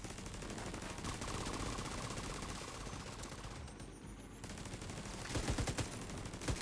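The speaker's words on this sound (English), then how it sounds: "Getting headshots with an LMG is no small thing" Light machine gun fire in The Division 2, a loud, dense burst of rapid shots sustained through nearly the whole stretch, briefly easing midway before resuming.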